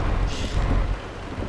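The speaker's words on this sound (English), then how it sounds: "It's raining." Rain and thunder in the trucking game Euro Truck Simulator 2 form a dense, continuous wash of rainfall with a deep rumbling roll underneath, loud and unbroken.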